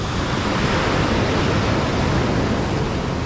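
Large ocean waves breaking on Pidakan beach in Pacitan, heard as a loud, continuous broadband roar of surf with no distinct individual breaks and no voices.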